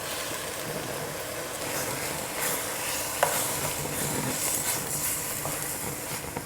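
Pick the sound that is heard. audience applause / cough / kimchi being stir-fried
kimchi being stir-fried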